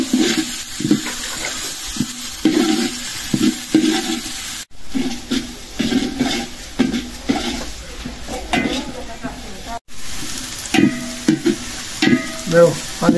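Onions fry in a pan for duck biryani: bursts of loud sizzling hiss and stirring clatter come in uneven waves, broken by two brief dropouts, with no clear talk.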